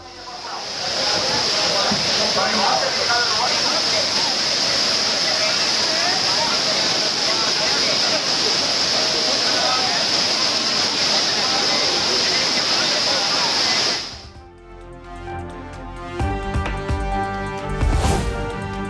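Broad roaring rush of the Courtallam waterfalls, steady and close for most of the stretch with a high hiss, as crowds of families bathe beneath; it then gives way to music.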